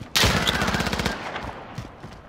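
Rapid automatic gunfire from a shooting video game, played in arcade mode, bursts loudly for about a second as a fast rattling volley, then trails off with a few fainter scattered shots.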